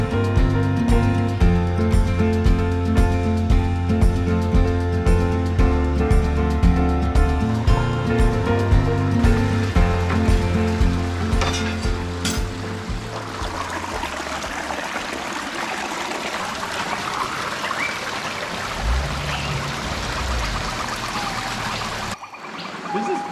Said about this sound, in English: This is pretty cool to have a waterfall coming straight down onto the beach like this.